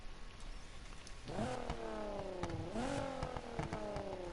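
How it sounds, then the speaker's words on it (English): A V6-swapped car in the video game Need for Speed Heat revs its exhaust: quiet at first, then a rising engine note climbs, dips and climbs again in two clear throttle pulls. "And then exhaust sound. Let's hear it. I put a V6 in this"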